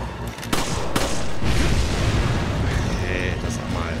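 Explosions and gunfire in the video game Resident Evil 5: a few sharp cracks lead into a heavy booming blast and a long rumbling roar, with a voice talking over part of it.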